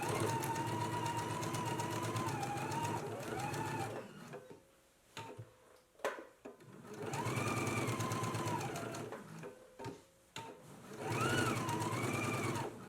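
A sewing machine stitches along the sides and lower edge of a dress pocket in two long motor runs with rising and falling pitch, separated by a few seconds of short stop-start bursts, close and steady with no talking.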